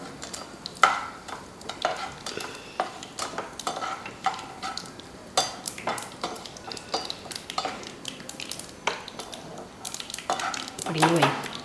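Asafoetida tempering frying in a pan for Karnataka-style sambar, with spoon stirring and metal clinks over a steady sizzle, close and moderately loud throughout.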